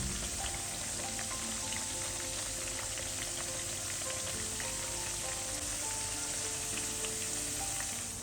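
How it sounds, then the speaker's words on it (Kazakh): Carrot pieces fry in hot liquid oil for a Kazakh maqluba dish, giving a steady, dense sizzle and crackle that carries on evenly throughout with no voices. "Енді қызып тұрған сұйық майға сәбізді саламыз"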